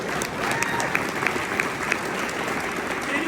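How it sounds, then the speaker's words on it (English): Steady applause from a conference audience at a Ricoh dealer summit in Denver, a dense wash of clapping with a few sharper claps standing out, no speech over it. "Anybody feel like clapping?"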